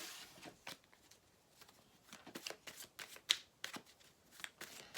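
Tarot cards being shuffled close up, quiet papery riffles and flicks in an irregular run of short bursts with no talking.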